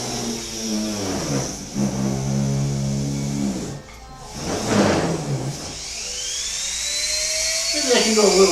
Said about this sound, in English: I can turn down the Dremel tool, and just get it started